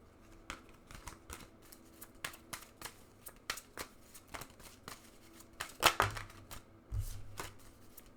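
Oracle cards from a Kipper deck are shuffled by hand, giving a run of soft, rapid, irregular flicks and riffles with a slightly louder handling rustle near the end.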